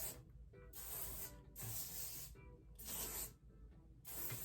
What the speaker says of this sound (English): And then I'm gonna do one big cloud of spray to hold everything in.